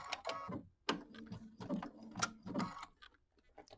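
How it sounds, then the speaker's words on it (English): A sewing machine runs in short, uneven bursts while sewing the seam of a mini quilt, the motor whirring and stopping several times, fairly close and alone with no talk. "And then we will sew the seam together"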